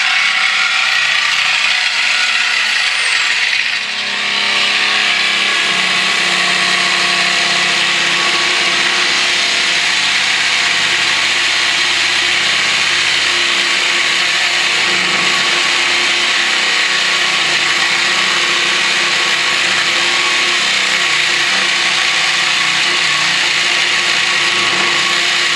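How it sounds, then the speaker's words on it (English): A power tool cuts through the exhaust pipe of a 2007 Chevy pickup with a loud, continuous grinding whine, steady and close for the whole stretch. "Exhaust mostly cut through."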